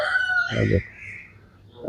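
A chicken squawks and clucks close by, a drawn-out high call followed by short bursts, with quiet gaps between.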